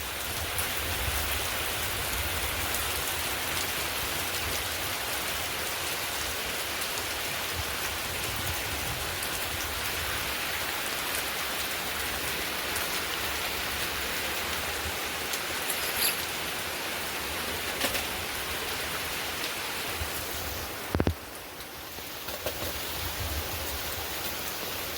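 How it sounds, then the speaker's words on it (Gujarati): Heavy first rain of the season pours steadily outdoors near a garden, a dense, even hiss of drops on surfaces lasting throughout, with one brief knock near the end. "તો વરસાદ આવી ગયો છે."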